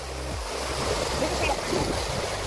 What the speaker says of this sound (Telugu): ఇక్కడ ఒక వాటర్ ఫాల్